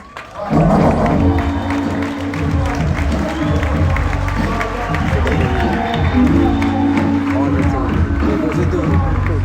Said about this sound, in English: Clap it up for this great brother again.